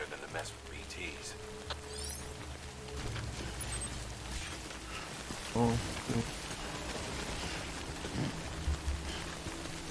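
Rain falling in the video game Death Stranding, a steady broadband hiss through the whole stretch with a spoken voice and game tones over it.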